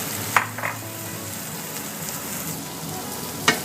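Potatoes frying in a pot for clam chowder, a steady close sizzle with a few clacks of a spoon or utensil stirring against the pot.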